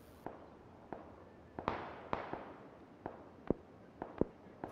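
Sniper rifle fire in the PUBG battle royale game sounds as a dozen sharp, sudden cracks at irregular intervals, some near and some distant, over a quiet background.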